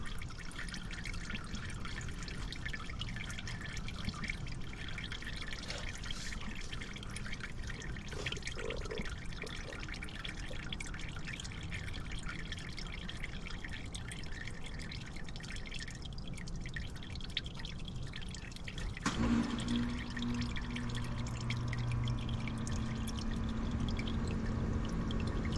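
Motor oil draining from a car engine during an oil and filter change, a steady trickling pour with dripping into a catch pan, close and continuous, shifting to a heavier flow near the end.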